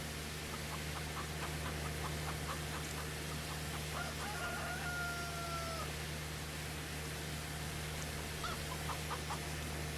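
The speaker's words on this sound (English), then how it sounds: "Rooster's making a little bit of a noise there." A rooster crows in the Farming Simulator 25 video game, a drawn-out call in the distance over a steady low hum, with faint chirping bird calls around it.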